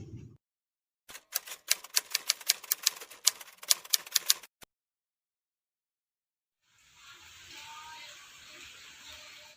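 A manual typewriter types a manuscript in a quick burst of sharp, rhythmic key strikes for a few seconds, then a pause, followed by a soft hiss; the sound is quiet and nearby.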